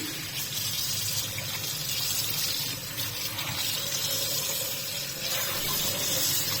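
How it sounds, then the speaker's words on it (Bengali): Water runs and splashes steadily while fresh cow's milk chhana curd is washed and kneaded by hand in a basin, a continuous close gushing wash with no speech. "এখন আমি পানি দিয়ে ভালো করে ধুয়ে কষিয়ে কষিয়ে দিয়ে গরমটা ছাড়িয়ে নেব"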